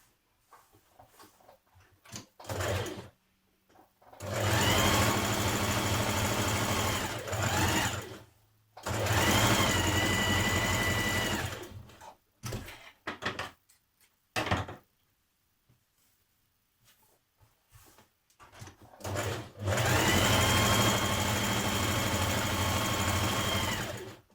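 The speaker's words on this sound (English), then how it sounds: "Stitch your side seam of your sleeves with right sides facing." A sewing machine stitches the side seam of a coat sleeve in three long, loud runs of steady whirring, separated by pauses filled with quiet handling and brief clicks.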